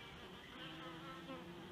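Honey bees buzzing around a colony in a house roof space during a trap-out, a steady, fairly faint insect drone that holds unbroken throughout.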